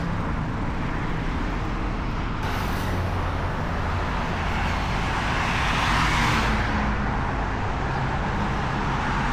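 Busy street traffic in Tbilisi, Georgia, near the train station, where green city buses run: a steady broadband roar of passing vehicles close by, with a louder swell as a heavy vehicle goes past mid-way.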